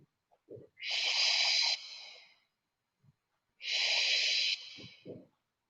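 Two deep, audible breaths taken during a Pilates exercise, each a loud, airy, close-miked inhale lasting about a second and trailing off, separated by a short pause with faint small movement noises between them.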